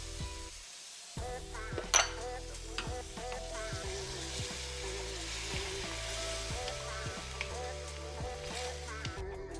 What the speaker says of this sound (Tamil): இப்போ க்ரீன் ஆனியன்ஸை போட்டு சாஸை ஊற்றி லேசாக வதக்கிக்கலாம்